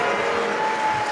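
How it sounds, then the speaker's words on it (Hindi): A crowd applauds at a Shiv Mahapuran katha gathering in Karnal, Haryana, a short burst of dense clapping with a steady sustained tone behind it. "जोरदार ताली बजाइए बाबा की।"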